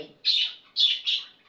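A small bird gives three loud, close chirps in quick succession, with brief quiet between them.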